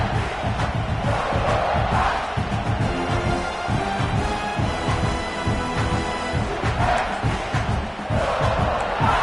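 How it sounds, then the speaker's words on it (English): Loud, sustained roar of a packed stadium crowd at a college football game between South Carolina and Oklahoma, a dense, steady wall of cheering and shouting that swells slightly throughout. "This crowd, full throat, spreading the eardrums and letting them know it's going to be a long day"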